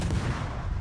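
Warship guns fire in a naval video game, a heavy low boom with a rumbling tail, brief and alone with no talking.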